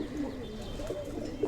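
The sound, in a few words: pigeons cooing on a rooftop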